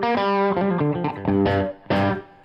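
Distorted electric guitar chords through a Soul Food overdrive into a Deluxe Reverb emulation pedal ring out with a lush reverb tail, several strums in a short, loud, sustained phrase.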